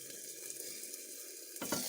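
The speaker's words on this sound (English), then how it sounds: "Oh, you hear it sizzling in there?" Chicken cooking inside a Range Mate microwave cooker gives a steady, close sizzling hiss with a faint crackle, followed by a louder rustling burst near the end; no voices.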